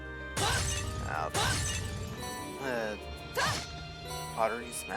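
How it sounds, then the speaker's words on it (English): Several sharp crashes of pottery being smashed in Trails of Cold Steel, each a loud bursting shatter spaced a second or two apart, with talking between them. "pottery smashing"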